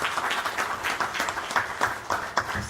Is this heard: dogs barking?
no